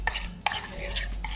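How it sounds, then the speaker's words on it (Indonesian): Homemade mayonnaise with fresh lime juice gets stirred in a bowl, giving a few soft, sharp utensil taps and scrapes spaced apart, close and fairly quiet, with no voices. "kemudian diaduk kembali"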